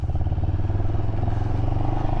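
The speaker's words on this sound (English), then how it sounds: "Got a peppy little engine." A 2023 CFMoto 700CL-X motorcycle engine thrums steadily while riding, a loud, close, continuous rumble with a rhythmic low pulse and no talking.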